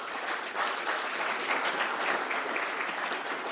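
Conference audience gives sustained, even applause, a dense wash of many hands clapping at once with no pauses, moderately loud and slightly distant.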